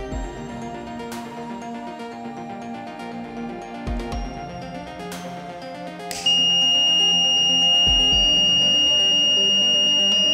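A KY-026 flame sensor fire detection system built on an ESP8266 NodeMCU sounds a steady electronic buzzer tone, with a layered, tonal background and several sharp clicks; partway through, a louder, higher alarm tone joins and holds.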